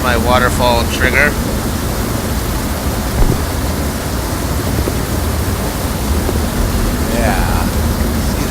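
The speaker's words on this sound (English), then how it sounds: "My waterfall trigger." A steady rush of falling water from an outdoor waterfall fills the scene, broad and hissing throughout, with a few faint voices briefly audible beneath it.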